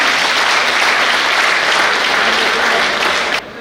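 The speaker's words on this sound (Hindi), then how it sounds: "खानोनकर जी, जोरदार तालियों से उनका स्वागत कीजिए" Loud, dense applause from an audience welcoming a guest at a large get-together in Chandrapur, steady and sustained before dropping off abruptly near the end.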